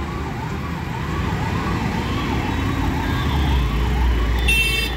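An ambulance siren wails in a steady rising-and-falling pattern over rumbling traffic at a signal near India Gate in New Delhi, holding moderately loud throughout, with a brief high electronic chirp near the end.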